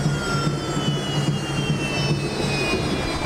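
The Sierra Leone president's plane sits at an airport arrival ceremony in Liberia, its aircraft engine giving a loud, steady jet whine with a low drone beneath, constant throughout and without talk.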